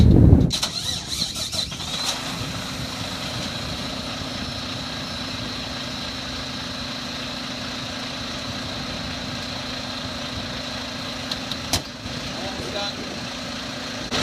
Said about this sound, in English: When that goes out, you can start the engine.